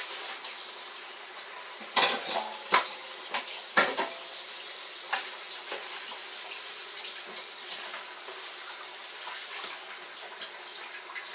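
Stewing beef rinsed under a running tap, a steady rush of water with a few sharp clatters and splashes early on, then an even flow, close and without speech.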